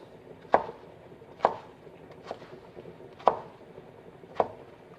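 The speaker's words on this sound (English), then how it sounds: "then we cut the little batons up in cubes" A knife chops vegetable batons into small cubes on a board while making Bolognese sauce: five sharp, close knocks spaced roughly a second apart, with no voices.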